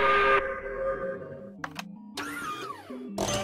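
Boat whistle sound effect in the party game Earwax: a long tonal whistle blast that fades, followed by shorter squeaky stepped toots and a final burst, heard alone.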